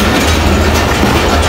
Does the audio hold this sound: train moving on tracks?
yes